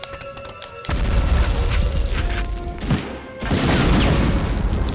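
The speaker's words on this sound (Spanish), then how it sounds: "Hay otra granada. Otra granada." Grenade blasts in the PlayStation game Medal of Honor, a loud booming explosion followed by a long roar of rumbling debris and gunfire, then a second heavy burst, close and dense.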